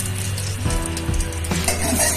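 A cracked small cardamom pod sizzling in hot oil in a pan while cooking spinach with rohu fish, a steady loud frying hiss with a few brief stirring scrapes.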